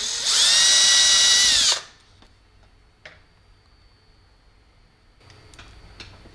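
A power drill tapping threads into an explosion-proof motion sensor housing runs loud and steady for under two seconds at the start, then stops, leaving faint clicks and light handling noise.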